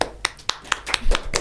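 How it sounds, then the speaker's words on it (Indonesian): About seven separate hand claps, evenly spaced, sound close and distinct at a school talk event for a top-ranked student from the PPLG program in Bali, with no talking over them. "Tepuk tangan dong."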